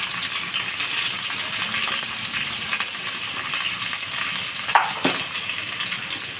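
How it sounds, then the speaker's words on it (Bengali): Onions fry in spices in a hot pan with a steady, close hiss and sizzle, broken by a couple of brief clinks partway through. "এখন আমি এই পাশে পেঁয়াজ দিয়ে দেবো। পেঁয়াজটা লাল করে দিন আমার এই মশলা কষানোর জন্য।"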